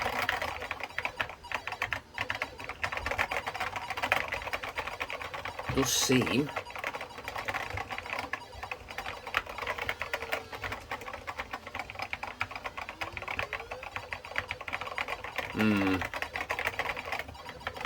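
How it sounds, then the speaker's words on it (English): Keys mashed on a Tatung Einstein computer keyboard, a continuous rapid clatter of plastic keys mixed with game noise, with a person speaking briefly over it. "Oh, yeah, so mashing the keys."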